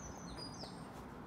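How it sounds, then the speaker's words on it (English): A bird sings a few thin high whistled notes outdoors, faint and brief over a steady background hiss. "I don't know which bird that is. It's got a high note"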